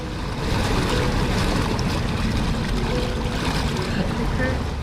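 Amphibious car driving into water, a dense continuous wash of splashing and churning water with engine rumble underneath, loud and steady for the whole stretch.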